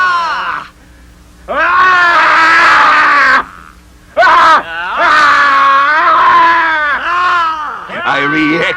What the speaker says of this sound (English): I replied to the yells of him who clamored.